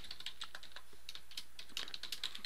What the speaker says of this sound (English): here type in